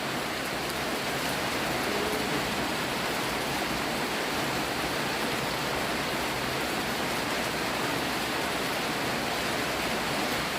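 Steady rain falls on herbs laid out to dry in the sun, a dense, continuous hiss of water on surfaces with no pauses, close and even throughout, with no voices.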